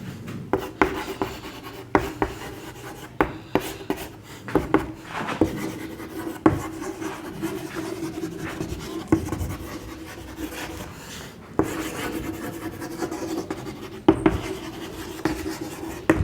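Notes being written on a classroom board: repeated scratchy strokes and sharp taps in an irregular rhythm, close and fairly loud, continuing without speech.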